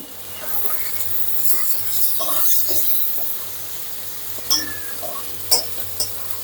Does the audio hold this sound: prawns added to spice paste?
yes